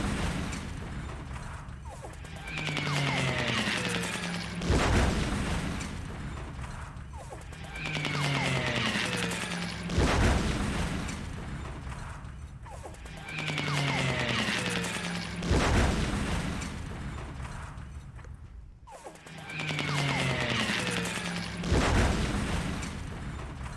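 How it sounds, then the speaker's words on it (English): Bombs exploding in the War in the East strategy game, a repeating cycle of rumbling blasts and crashing booms every five seconds or so, loud and dense, with no talk over them. "It's a lot of bombs."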